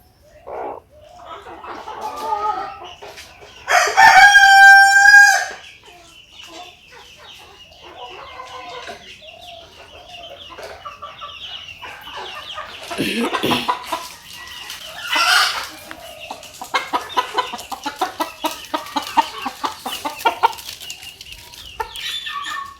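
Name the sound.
chickens clucking and rooster crowing on a farm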